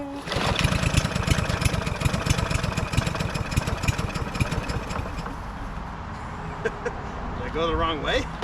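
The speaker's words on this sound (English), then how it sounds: "If you bend that towards the front of the machine, it'll give you a higher engine speed." A lawn mower engine runs steadily after its throttle tab has been bent toward a higher engine speed, a loud, close, rapid chugging that carries on throughout, with a brief voice near the end.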